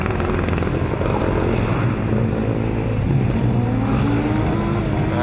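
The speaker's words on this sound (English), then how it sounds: "on track, we've also got our green car, E44 Deggendorf, Black Forest, doing good pace here" A Formula Student race car runs an endurance session on track, a steady loud motor drone passing close with no pause.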